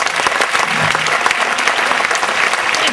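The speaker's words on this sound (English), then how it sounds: "Let's have a nice round of applause for Mr." A crowd at a tribute show claps loudly for a band member, dense continuous applause that stays strong and even throughout, with a hint of cheering voices mixed in.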